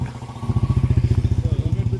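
A motorcycle engine thrums with a steady, rapid pulsing beat up close while riding in Manali, with a faint voice briefly audible at the start.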